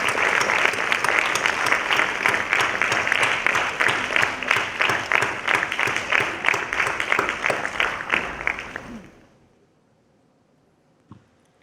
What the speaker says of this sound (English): please welcome Dr. Bharti with a thunderous round of applause